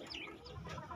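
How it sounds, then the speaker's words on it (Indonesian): Brood hens clucking at close range in a short burst, several high, rising calls overlapping against a constant background hum. "Ini ayam bagus, ayam baik, ayam sehat"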